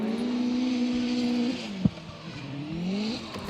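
A Toyota 86 race car on an autocross course drones steadily, then briefly eases off before its engine note climbs again as throttle comes back on, heard fairly close with no talking.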